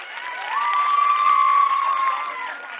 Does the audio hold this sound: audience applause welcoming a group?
yes